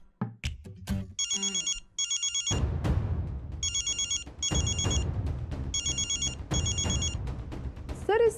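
A mobile phone rings in a quiet indoor setting, its bright electronic ringtone repeating in several short bursts over a continuous low background of room sound and movement.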